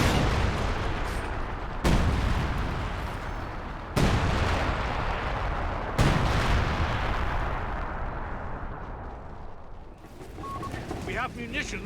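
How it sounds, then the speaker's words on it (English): Heavy artillery blasts and gunfire from the video game Company of Heroes 3: loud explosions strike about every two seconds over a constant roar of battle, with a softer crackling stretch near the end. "I believe the biggest difference lies: the explosions and flame effects"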